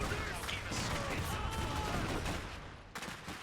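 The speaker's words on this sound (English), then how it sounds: "they're shooting at us" Dense gunfire in the Iron Harvest strategy game, a continuous rattle of rifle and machine gun shots with heavy impacts, loud and constant before thinning out near the end.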